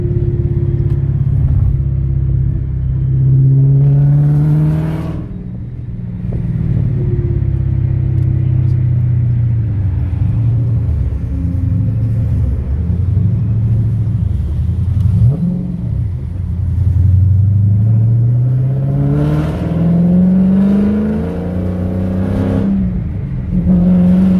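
A powerful car engine rumbles loud and near while driving, rising and falling through repeated revs and gear changes over a steady road drone.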